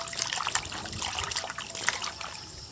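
Vegetables are washed by hand in water, with close trickling, dribbling and light splashing as they are swished and rinsed, a fairly quiet, uneven flow with a few sharper splashes.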